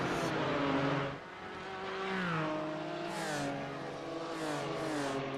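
BMW race cars in iRacing at Watkins Glen drone and rev steadily, engine notes rising and falling as several cars run close together, loud and continuous without talk.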